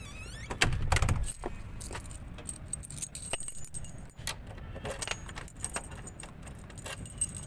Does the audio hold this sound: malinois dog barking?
no